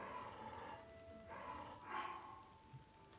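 Dogs in the video game Zelda: Tears of the Kingdom give a few faint, brief barks and yips, quiet and distant, with no talking.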